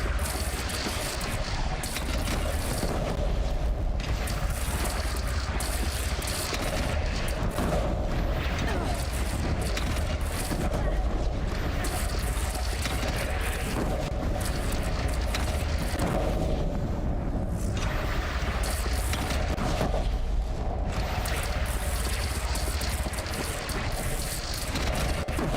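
A mounted gun in a video game fires in a long, unbroken, heavy rumble of shots and booms lasting the whole stretch, with a voice talking now and then beneath it.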